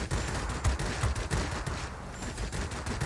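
Machine gun fire from an F5F plane in World of Warplanes, a dense rapid rattle of sustained bursts that continue almost unbroken over the engine drone, loud and close, with no voices.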